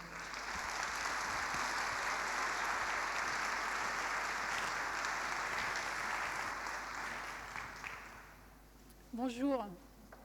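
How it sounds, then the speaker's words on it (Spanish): Sustained audience applause at a design conference fills the hall, fading gradually after several seconds before a voice briefly speaks at the end. "Un fuerte aplauso para Nathalie Grazé"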